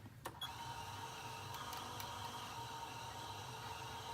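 A Bernina sewing machine winds its large bobbin with a steady, even mechanical whir and low motor hum, preceded by a brief click, close and quiet.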